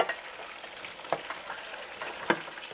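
Mushrooms sizzle and crackle steadily in a hot pan, with occasional louder pops and spits, close up and with no talking.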